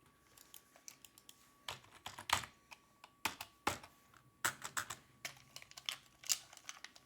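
Fingers tapping keys on an Amiga computer keyboard, a scattered run of close, crisp clicks in irregular bursts and single presses with short gaps between them.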